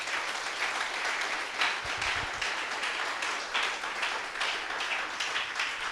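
A church congregation claps for the Lord during a sermon, a continuous moderate wash of many hands, with a few low thuds near the middle.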